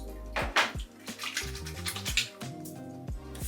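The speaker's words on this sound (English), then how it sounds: "I'm just gonna pour out into my hand here" Water is poured out of a shaving soap puck into a hand, giving short close wet splashes and trickles with small clinks, quiet and brief.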